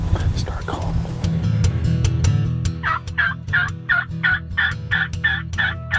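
Wild turkeys gobble repeatedly in a spring woodland hunt, a run of rapid, rattling calls in steady succession at moderate distance, with quiet whispered talk from the hunters nearby.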